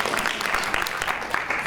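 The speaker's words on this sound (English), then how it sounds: "Round of applause, folks." Audience applause at a political event in Virginia, a brief stretch of steady crowd clapping, fairly faint and continuous.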